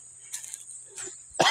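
A single short cough from a man with a runny nose, close and dry, followed by a sharper burst at the end over a quiet background.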